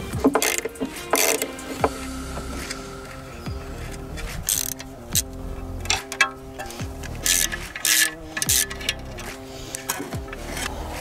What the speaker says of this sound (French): Écoute, on va desserrer la culasse.